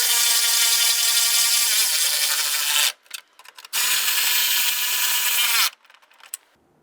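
Ratchet or wrench tightening a nut onto a plastic washer reservoir mount on a 2011-2019 Ford Explorer, heard as two long, loud, steady bursts of rasping, buzzing clicks separated by short pauses, close up and with no talk.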